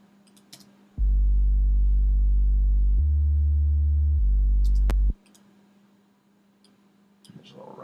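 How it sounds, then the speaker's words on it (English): A synthesized sub bass plays a deep, pure, sustained low tone for about four seconds, steady and loud, with a brief step down in pitch midway before cutting off, surrounded by faint room noise and clicks. "the last thing in the synth section is just a sub bass"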